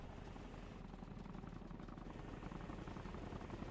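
Helicopter in the video game Arma Reforger, a steady loud rotor drone with dense thumping chop held throughout, close and unbroken, with no voices.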